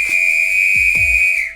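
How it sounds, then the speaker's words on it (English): A single shrill whistle holds one steady, piercing tone loudly for about a second and a half, with a few soft thumps underneath. "all of a sudden I hear a shrill whistle"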